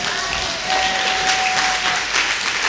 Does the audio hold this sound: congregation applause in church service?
yes